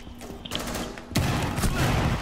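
Gunfire in the video game Rainbow Six, several rapid shots that grow louder and denser halfway through, with faint game sounds behind.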